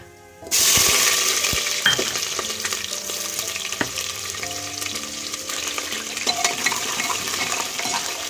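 Onions drop into a hot pan already holding cumin, fenugreek seeds and cinnamon, setting off a loud, sustained sizzle with scraping stirs and small clatters, close up and without talk.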